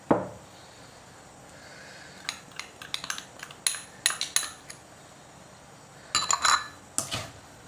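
A spoon clinks and scrapes against a bowl while dried garlic, ginger and fenugreek powder are mixed into mango pickle: quiet stretches, then irregular clusters of sharp metallic taps, close by, with no talk.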